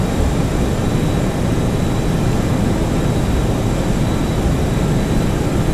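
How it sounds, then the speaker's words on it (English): Boeing 737-200 jet engines at takeoff power in the X-Plane 11 flight simulator, a loud, constant roar with a steady whine on top, heard alone without talk. "Takeoff power set."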